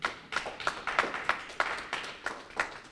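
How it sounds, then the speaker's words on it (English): A small audience at a Yonkers Riverfront Library event gives a short burst of scattered clapping, a dozen or so distinct, fairly soft claps at an uneven rhythm. "Let's give Brother Antonio Kenyatta another round of applause, please."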